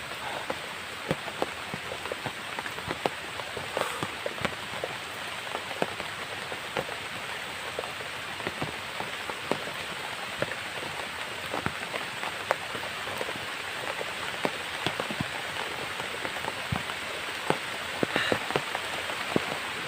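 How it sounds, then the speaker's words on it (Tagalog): Heavy rain pours steadily onto a surface, a dense continuous hiss dotted with sharp drip and splash impacts, close and loud throughout. "patuloy paglakas ng ulan"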